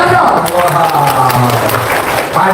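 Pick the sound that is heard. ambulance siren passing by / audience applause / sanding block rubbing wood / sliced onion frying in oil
audience applause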